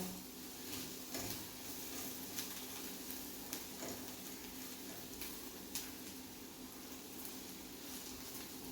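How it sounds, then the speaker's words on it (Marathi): Chilies dropped into hot oil in a pan while cooking a Saraswat-style jackfruit and dried prawn dish give a steady, fairly quiet sizzle with small crackles and pops running throughout. "मी आता मिरची ॲड करते याच्यात."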